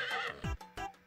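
Horse in the video game Miitopia neighing, a short whinny with a falling snort followed by a second brief call, close and clear with no talk.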